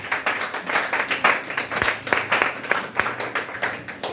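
A church congregation claps together in a steady rhythm in praise, a fairly close burst of many hands with some livelier irregular claps among the beat.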